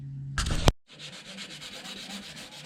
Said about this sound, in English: Last sanding step, guys.